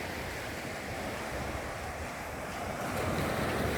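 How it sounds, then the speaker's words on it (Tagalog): Steady roar of ocean surf washing on the shore at Tong Fuk Beach, Lantau Island, Hong Kong, broadband and continuous with wind noise, swelling slightly near the end, no voices. "At saka tingnan nyo ang mga alon."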